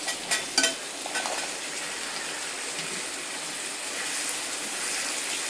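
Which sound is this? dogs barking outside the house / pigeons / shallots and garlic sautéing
shallots and garlic sautéing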